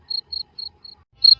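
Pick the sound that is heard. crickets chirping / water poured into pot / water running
crickets chirping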